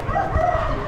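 A lot of hens at an Amish animal auction cluck and crow in a brief noisy burst, loud and close, over a crowded barn background.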